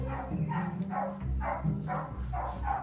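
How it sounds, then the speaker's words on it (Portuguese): A phone app for translating dog barks plays a happy dog-bark sound, a rhythmic run of about six quick barks at a steady pace, close and fairly loud with no talking over it. "Latidos de cachorro, vamos pôr feliz."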